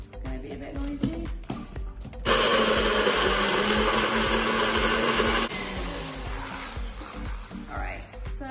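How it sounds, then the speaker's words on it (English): A small kitchen blender grinds walnuts and garlic cloves, a loud continuous whirring roar that starts after some clinking, holds steady for a few seconds, then drops to a lower spinning hum as it winds down. "I'm just going to blend them in a small blender, or you could use a food processor"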